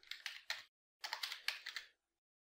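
Quick bursts of close, crisp keystrokes on a computer keyboard as a router command is typed, two rapid runs separated by a brief pause, then silence.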